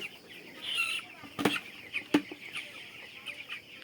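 Young chickens cluck and chatter nearby, with a couple of sharp louder squawks breaking through a steady murmur of birds.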